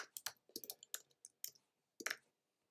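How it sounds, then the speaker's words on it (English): Quiet, close keyboard typing and mouse clicking on a computer, a handful of light irregular taps in quick clusters separated by short pauses. "We'll type it in again."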